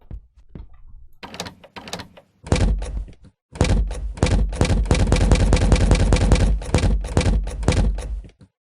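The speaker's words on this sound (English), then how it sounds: "It takes more coding to set it up to where it only plays the sound when the door is actually shut." Loud, sharp door-shutting thuds from the horror video game Allow Me To Sleep: a few scattered knocks, then a rapid, relentless string of slams repeating over several seconds.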